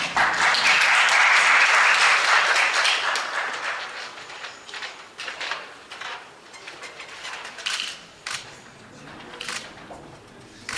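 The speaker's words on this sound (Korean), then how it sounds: "우리 댄스강 선수에게 박수 한 번 부탁드리겠습니다" An audience at a Road FC mixed martial arts weigh-in applauds a fighter, starting as a dense wash of clapping that thins into scattered, sharper claps as it dies down.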